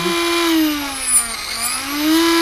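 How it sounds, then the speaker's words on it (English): Electric motor of an RC helicopter running on a Hobbywing 130HV ESC with throttle hold, a steady close high whine that dips in pitch, then rises back up to speed, with a faint airy rush throughout. "now that I'm at RPM, the motor's up to speed, I can hit my throttle hold button"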